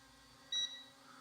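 RG600 Pro brushless optical flow drone gives a short, clear electronic beep as obstacle avoidance switches on, a single bright tone over a low steady hum, with no talk.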